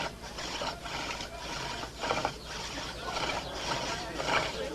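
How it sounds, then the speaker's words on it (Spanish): A carpenter works a bow drill into wood, producing a rhythmic back-and-forth rasping that repeats about every half second at close range, with a voice talking faintly underneath. "El taladro de arco era tan solo una de las herramientas que el artesano debía dominar"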